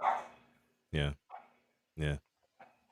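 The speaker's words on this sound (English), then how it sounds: "I don't know if you hear this dog in the background." Dog barking in the background, two loud sharp barks about a second apart with faint yips between, alongside someone talking briefly nearby.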